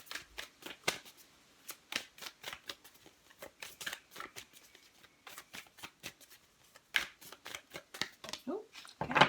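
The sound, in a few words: Moonology oracle cards being shuffled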